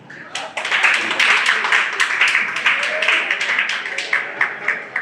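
Audience applause at a live French-language comedy show, a dense burst of clapping that rises quickly and stays loud and steady, with some voices beneath.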